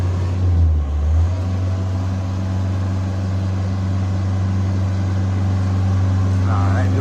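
A Deutz diesel engine idles steadily on a 1999 JLG 600S boom lift, a constant low drone with a strong low hum running throughout, close and fairly loud.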